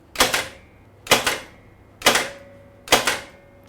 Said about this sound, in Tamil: ஸோ ஒரு பேப்பர் இருக்கும், அது எந்த டைமில் நீங்கள் பஞ்ச் பண்ண உள்ளே விடுறீங்களோ இட் கிவ்ஸ் அ சவுண்டு.